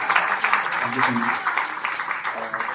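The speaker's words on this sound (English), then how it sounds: "So please, round of applause for my fiancée." Audience applause at a book launch event, a dense, steady wash of clapping held under a voice speaking throughout.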